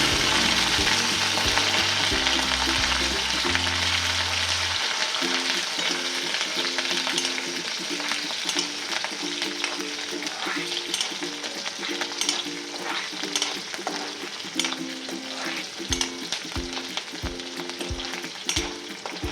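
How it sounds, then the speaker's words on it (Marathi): Chopped green chillies fry in hot oil with cumin and mustard seeds, making a loud, continuous close sizzle with crackling pops, over a steady background hum and with no talking. "छान मिरची तळून घ्यायची"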